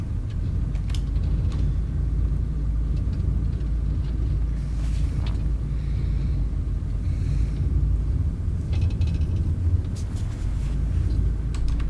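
A heavy APC armored vehicle engine in ArmA 3 rumbles steadily throughout, a loud continuous low drone with no speech over it.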